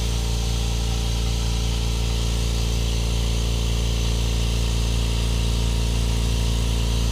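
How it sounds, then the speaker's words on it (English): A Kobalt QuietTech air compressor runs close by with a constant, dense motor hum and airy hiss, steady and unbroken throughout, with no talking. "we're going to see how loud the Cobalt QuietTech air compressor is on the decibel meter"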